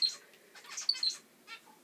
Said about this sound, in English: So that was my 2 zebra Finches, Mercury and Thor.